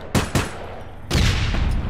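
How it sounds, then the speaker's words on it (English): Gunfire in the video game APB Reloaded comes as two sharp shots in quick succession, then a longer burst of rapid fire, loud and close. "Getting shot at by gunfire."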